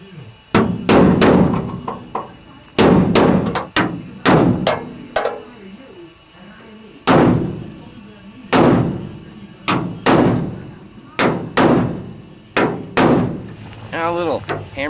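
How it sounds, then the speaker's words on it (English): Hammer and dolly straightening a dented car body panel on a Blazer project, loud sharp metallic blows landing in irregular bursts close up, with short pauses between groups of strikes. "A little hammer and dolly action."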